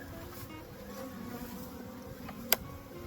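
Honeybees hum in a steady, low drone while a spring hive is opened, smoked and inspected, with one brief sharp click standing out near the end.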